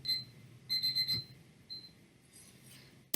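An alarm clock sound effect in a film edit rings in short bursts of rapid, high electronic beeps, with one brief chirp, then a quick cluster, then a lone beep, over quiet background.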